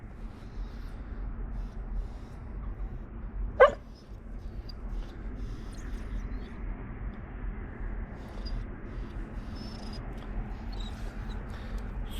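A single sharp dog bark rings out once, nearer than the steady low rumble and background noise that fill the rest of the scene.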